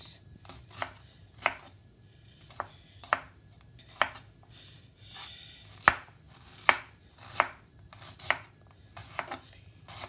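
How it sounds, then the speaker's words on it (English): A knife chops fresh ginger on a cutting board in a series of about a dozen sharp, irregular taps, close and fairly loud with no one talking. "I'm gonna cut my ginger"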